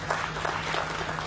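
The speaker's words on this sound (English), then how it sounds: "Ladies and gentlemen, let's clap for this fund." An audience at a large annual members' meeting of a national social security fund claps in a steady, dense patter that fills the hall evenly from a moderate distance and holds through the whole moment.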